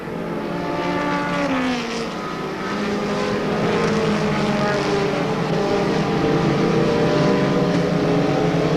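Race cars at a 1993 weekly event at Monadnock Speedway roar around the oval in a dense, continuous engine drone. Overlapping pitches rise and fall as the pack passes, loud and steady throughout.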